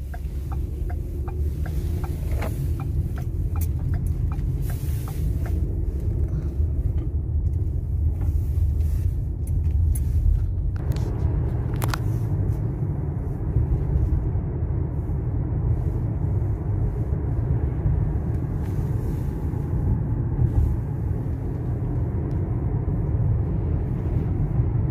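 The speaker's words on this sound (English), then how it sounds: "Lots of traffic on this road." Steady road traffic rumbles past in Mount Hope, a continuous low drone of passing vehicles close by, with a few brief clicks and rattles early on and no talk over it.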